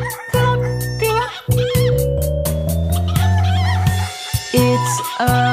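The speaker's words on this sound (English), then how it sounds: "It's a chicken." A chicken clucking, set against a bright synthetic children's song backing; the short fowl calls sit over steady sustained music tones and a beat.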